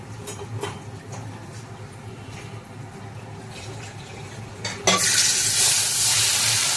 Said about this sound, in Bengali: এখন ভেজে নিচ্ছি পাবদা মাছ। ভীষণ তেল ছিটকায় এই পাবদা মাছ ভাজতে গিয়ে